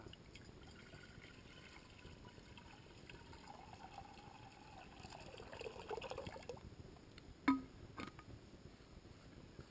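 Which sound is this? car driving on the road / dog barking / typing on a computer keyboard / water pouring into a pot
water pouring into a pot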